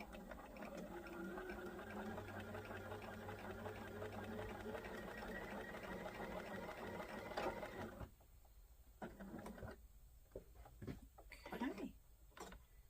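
A sewing machine sews a seam on a quilted wallhanging with a steady, close mechanical whir for about eight seconds before stopping, followed by quieter handling clicks and rustles.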